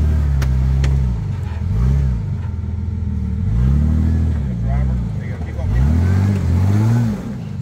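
A Jeep XJ on 33-inch tires with lunchbox lockers drives with rear differential noise, a low engine drone rising and falling in repeated revving swoops, close and loud throughout.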